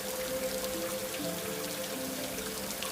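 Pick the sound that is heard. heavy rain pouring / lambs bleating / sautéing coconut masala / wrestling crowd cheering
heavy rain pouring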